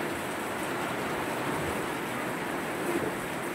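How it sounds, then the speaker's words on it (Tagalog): Heavy rain pours down in a steady, dense hiss, loud and continuous with no letup and no voices. "Lakas ng ulan, no?"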